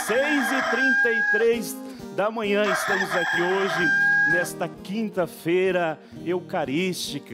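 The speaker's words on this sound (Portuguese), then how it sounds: "Olha o galo cantando, minha gente." A rooster crows repeatedly in the early morning, its calls sounding under a presenter who talks throughout.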